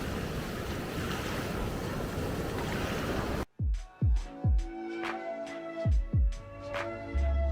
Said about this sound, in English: this beach here gets pumping with waves that surfers love